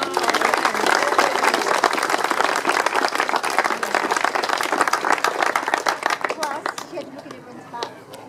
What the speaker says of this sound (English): So please give a round of applause to Robin Coulton.